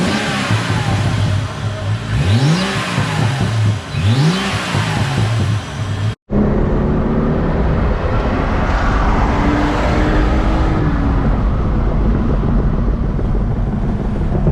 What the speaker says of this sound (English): but when you rev it